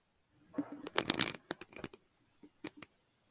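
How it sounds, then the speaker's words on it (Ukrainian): Adhesive tape being pulled and pressed on to fix wooden skewers on the outside of a gift bouquet, heard as close, brief crackling and tearing bursts followed by a few light ticks. "закріплюю шпажки, які назовні скотчем."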